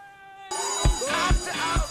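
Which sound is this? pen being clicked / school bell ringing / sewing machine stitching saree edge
school bell ringing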